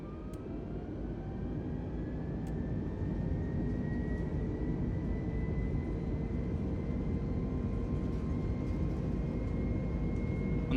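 Simulated light aircraft engine in Microsoft Flight Simulator, a Cessna 172, holds a steady, continuous drone with a rising whine throughout the takeoff roll, loud and unbroken with no talk over it.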